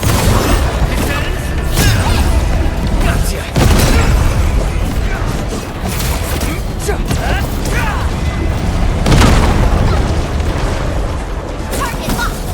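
Weapons fire and explosions in the video game Arknights: Endfield come as repeated heavy booms and bursts that crash loudly and close over a dense rumbling backdrop, with several sharp impacts spread across the stretch.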